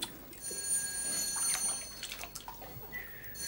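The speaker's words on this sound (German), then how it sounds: "Das Telefon klingelt." A telephone rings in a home, a thin electronic trill that sounds faint and slightly distant for a couple of seconds in an otherwise quiet room.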